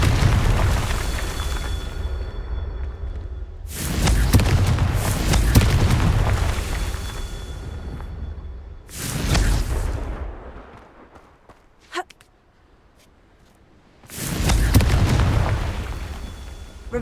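Confringo spell explosions in Hogwarts Legacy, several loud booming bursts in separate waves with rumbling decay, gaps of near silence between them and a short sharp crack in one gap.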